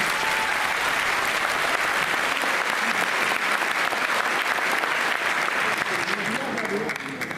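Sustained applause from an audience at a live stage poetry show in Varanasi, a dense, steady clatter of clapping that carries evenly throughout and thins slightly at the very end.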